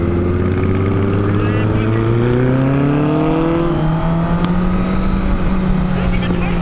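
A motorcycle engine drones steadily while riding, its pitch slowly rising and shifting as the bike cruises along, loud and continuous with wind noise underneath throughout.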